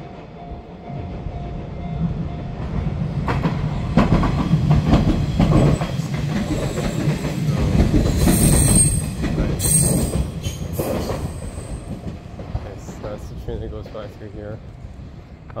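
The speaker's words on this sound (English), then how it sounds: "wait for the train to come." A train pulls into a station in Fukuoka, Japan, its loud rumble and wheel clatter building and holding, with brief wheel squeals at the peak before easing off, while a person talks nearby.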